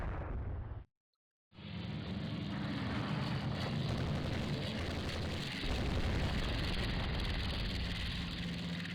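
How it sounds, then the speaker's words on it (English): Aircraft approaching in the naval strategy game Rule the Waves 3: a continuous loud engine drone that cuts out briefly, then returns and holds steady to the end. "And now we're being approached by aircraft."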